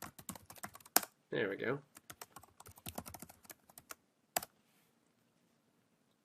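Rapid typing on a computer keyboard to sign in to an account, a string of sharp close clicks with a brief scrape, and someone speaking briefly amid the keystrokes before a short quiet end.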